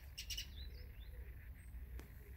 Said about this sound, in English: Look, here comes the wren.